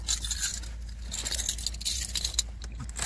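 A bunch of Volkswagen Golf Mk3 car keys jangles and clinks close by inside the car, with light metallic rattling over a low background rumble.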